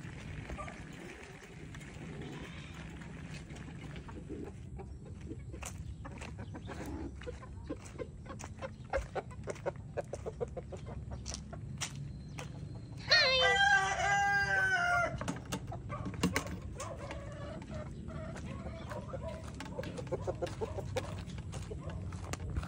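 Chickens cluck and scratch around in a quiet farmyard at feeding time, and a rooster lets out one clear crow partway through.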